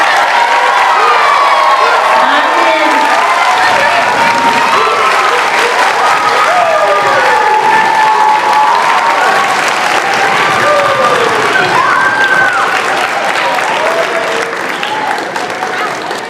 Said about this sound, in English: let's give these awesome kindergartners another round of applause,